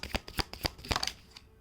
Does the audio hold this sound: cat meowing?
no